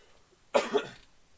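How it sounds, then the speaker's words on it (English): A single short cough bursts out at close range, a rough two-part hack lasting about half a second, with quiet surroundings before and after. "Stop coughing."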